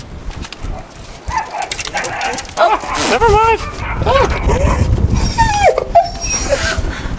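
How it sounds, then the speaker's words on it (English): Small puppies yip, bark and whimper in quick high-pitched bursts close by on a street in a New Mexico mountain town, while a person talks over them. "look, it's little puppies. It's little puppies."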